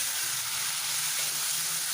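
Minced meat (keema) seasoned with rock salt sizzles steadily in a frying pan as it is stirred, a dense continuous crackle with no voices over it.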